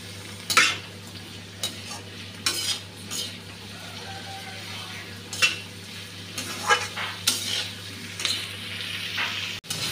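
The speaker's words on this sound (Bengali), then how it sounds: "ভাজা হয়ে গেছে পেঁয়াজ," Onion, tomato, green chilli, ginger and black pepper fry in a pan, a steady low sizzle under repeated scrapes and clinks of a spoon stirring against the metal.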